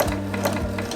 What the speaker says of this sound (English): We're just going to top stitch down this side